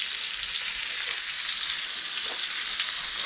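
Chicken for chicken tinga sizzles and fries steadily in a pan, a close, even hiss of crackling oil with no pauses and no talk.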